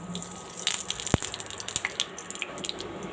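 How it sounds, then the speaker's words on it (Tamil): Rapid crackling pops and sizzles of mustard seeds spluttering in hot oil while cooking chutney for plantain dosa, close and busy, with one sharp louder snap among the spatter. "கடுகு வெடிச்சிருச்சு."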